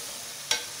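Freshly crushed ginger and garlic sizzle in a pan, a soft steady hiss with one brief stir-like burst midway, short and fairly quiet, with no voices.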